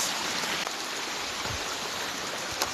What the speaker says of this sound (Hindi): खूबसूरत खतर पे से पानी आता हुआ आप देख सकते हैं